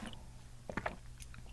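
Quiet close-up chewing and biting on raw garlic during a solo soju drink, a few soft crunchy bites clustered in the middle of an otherwise hushed moment.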